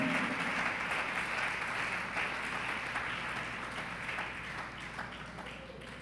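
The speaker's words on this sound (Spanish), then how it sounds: "Ese aplauso que sea para el Señor." A church congregation applauds for the Lord after a sermon, a faint, even wash of many hands clapping sustained throughout with no break.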